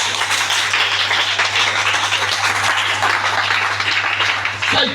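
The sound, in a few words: church congregation applauding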